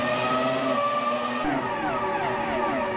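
F1 V10 race cars in the Automobilista 2 racing game, on the Hockenheim 2001 circuit, roar continuously with high-pitched engine howls, rising and falling in pitch through gear changes as they pass, loud and without talk.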